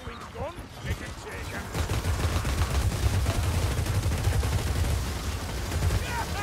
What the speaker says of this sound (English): we're shooting the poor rats from both ends